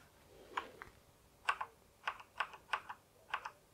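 Keys on a Thermaltake X1 Premium RGB mechanical keyboard click sharply about seven times at uneven intervals, close and crisp against a quiet background with no talking.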